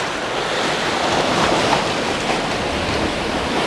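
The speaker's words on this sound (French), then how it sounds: "il y a des belles vagues qui arrivent" Big waves crash and roll ashore during Hurricane Irma, a loud, continuous roar of surf blended with heavy wind buffeting the microphone, with no voices.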